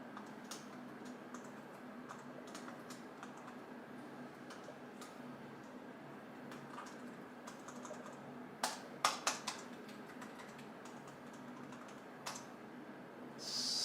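Clicks of typing on a computer keyboard hooked to a Raspberry Pi setup, faint and irregular over a steady background hum, with a brief louder burst of keystrokes near the end.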